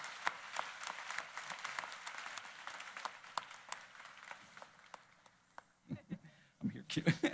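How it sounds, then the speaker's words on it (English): A convocation audience applauds the School of Management and Labor Relations faculty at Rutgers, moderate steady clapping from a distance that thins out, followed by a speaker's voice. "Join me with an enthusiastic round of applause for the School of Management and Labor Relations faculty."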